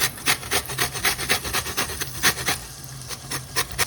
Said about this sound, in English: now I'm going to add some fresh zest